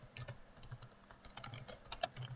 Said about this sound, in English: So I'm going to type in a bunch of code.